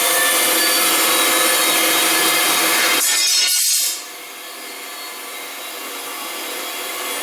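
A Delta 14-inch bandsaw cuts a 1/4-inch piece of wood with a loud, steady, close-up whirring rasp. After about four seconds it drops abruptly to a quieter running hum.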